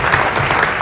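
Dense applause from an audience at a celebration reception honouring Bill Blair, loud, steady clapping filling the whole short moment with no voices over it.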